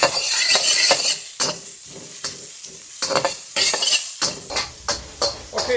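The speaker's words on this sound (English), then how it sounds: "we're going to stir fry this for about 30 seconds" Pork fried rice with peas, carrots and corn tossed in a hot wok, giving steady sizzling broken by sharp, repeated scrapes and clanks of a metal utensil against the pan, close and loud with no talking.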